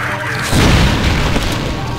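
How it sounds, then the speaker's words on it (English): A grenade explodes in the video game Doom, a deep booming blast that swells after a half second and rumbles on, loud over dense game noise. "let's throw a grenade here and see what that does"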